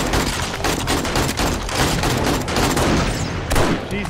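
Shotgun blasts in the zombie survival game 7 Days to Die (Alpha 19) during a multiplayer horde night, firing in a dense, continuous volley of loud booming shots with heavy low-end, almost no gaps between them.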